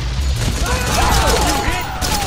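Suppressing gunfire rattles continuously through a chaotic firefight, dense and loud, with shouted voices and whistling sounds mixed in.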